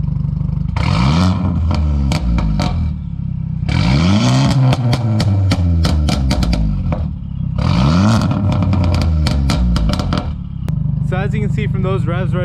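A stage 2 Mercedes CLA engine revs up hard several times in bursts, deep and throaty through aftermarket HKS mufflers, with loud rasping pops between pulls.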